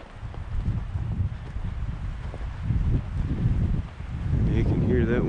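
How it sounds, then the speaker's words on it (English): Wind gusts across a mountain canyon trail under a clouded sky, a steady low rushing roar that swells and buffets the microphone in waves, growing stronger toward the end. "You can hear that wind now."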